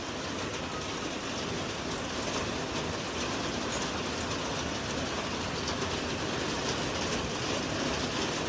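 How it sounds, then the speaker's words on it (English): Hail and rain pour down steadily during a heavy hailstorm at a home, a dense, continuous hiss of falling ice and water heard from close by with no voices. "there's like a mix of some hail still coming down"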